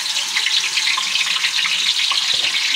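Water is poured into a pot of fried onions while cooking a large batch of langar food, giving a steady, close rushing splash with a faint sizzle underneath.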